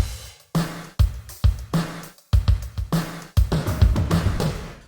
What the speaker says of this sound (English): So we instantly got that classic 80s sound on the drums.